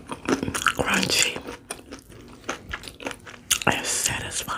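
Someone bites into crunchy deep fried chicken, producing loud, close crunches and crackles in quick bursts followed by chewing. Soft talk is mixed in.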